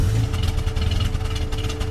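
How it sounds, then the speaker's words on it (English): An old slant six car engine from Pixar's Cars runs steadily with a low, even rumble and a faint rhythmic chatter, close and continuous throughout. "They even got the engine sounds right. I was saying that sounds so awesome. That's the old slant 6."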